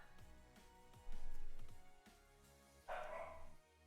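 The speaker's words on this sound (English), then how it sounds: "I hear my doggy going crazy" A dog barks excitedly indoors in a series of loud, close yips, several quick barks followed by a louder high-pitched burst, with no speech over them.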